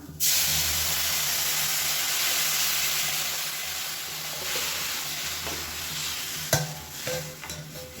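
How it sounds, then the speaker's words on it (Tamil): Prepared rasam hits hot tempering oil in a South Indian kitchen pan with a sudden loud burst of sizzle, settling into a steady frying hiss with a few clinks near the end. "இப்போ வந்து நம்ம கரைச்சி வச்சுருக்க இந்த ரசத்தை வந்து இதில் சேர்த்துக்கலாம்."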